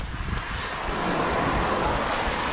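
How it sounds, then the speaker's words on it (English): Wind rushes steadily over the microphone while someone runs outdoors during marathon training in London, a broad, constant roar with no other clear sounds. "it's helped by the fact the wind's behind me a bit now, not in my face"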